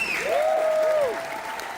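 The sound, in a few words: audience round of applause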